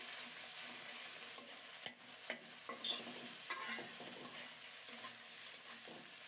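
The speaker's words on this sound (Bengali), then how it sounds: "এবার দাঁড়িয়ে থেকে নেড়ে চেড়ে মাছের মাথাটাকে একেবারে লাল লাল করে ভেজে নেব।" Rohu fish head frying in a pan with turmeric while being stirred and turned, a steady close sizzle broken by scrapes and soft knocks of the spoon.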